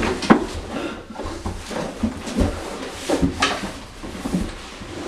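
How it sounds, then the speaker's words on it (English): An indoor door handled roughly as it is opened and closed, several wooden knocks, thumps and rattles spread over a few seconds, close by and fairly loud. "I hate this door sometimes."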